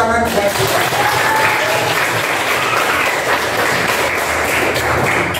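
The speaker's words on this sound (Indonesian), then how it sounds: "tepuk tangan" A classroom of students applauding, loud dense clapping close by that holds steady for several seconds, with faint voices mixed underneath.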